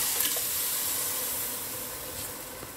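Milk poured into a hot pan of Kesari Murgh cooking, a steady sizzling, hissing fry that stays loud and even throughout before easing slightly near the end.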